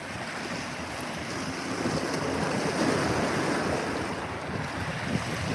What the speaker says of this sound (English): You can see the wave action picking up some of those swells the other side of the inlet.